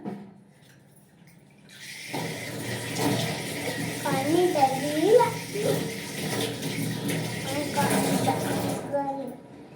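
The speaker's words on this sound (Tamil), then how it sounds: "இப்போ நான் இதை வாஷ் பண்ணி காட்டுறேன்" A kitchen utensil washed under a running tap, steady splashing water with clinks and rubbing as it is scrubbed, while someone talks over it in Tamil.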